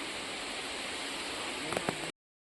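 Saptagundala (Mitte) waterfall rushes in a steady, full roar of falling water, with a couple of faint knocks just before it cuts off abruptly.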